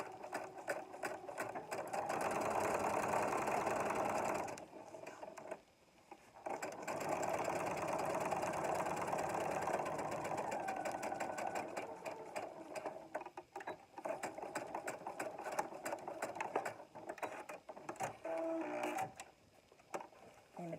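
Sewing machine stitching a fabric seam for a small elastic scrub hat, long runs of fast rhythmic mechanical whirring broken by brief pauses and shorter stop-start bursts, close and quiet, with no talk.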